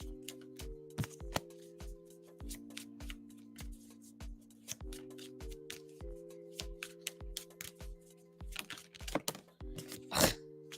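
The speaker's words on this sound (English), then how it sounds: "I know you heard me shuffle and I got the Hangman again." Tarot cards are shuffled by hand in quick, uneven bursts of crisp riffling snaps and taps, close and fairly quiet, over soft sustained background music tones.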